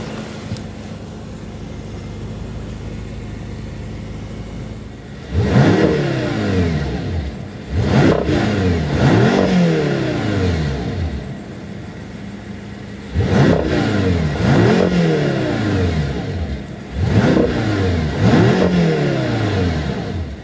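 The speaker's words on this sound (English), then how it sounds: "nice and free revving, and gives a very unique exhaust note, definitely more potent than a standard 650 Gran Coupe." BMW M6 Gran Coupe engine revved repeatedly from idle, the exhaust note rising and falling in several sharp blips in clustered bursts, with a steady idle in between; loud and close.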